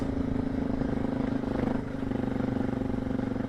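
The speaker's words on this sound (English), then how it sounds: "You can probably hear by the engine revs" A Suzuki DR650 motorcycle labours up a steep offroad mountain climb, its engine holding high, strained revs in a steady drone with a brief dip partway through, moderately loud and close.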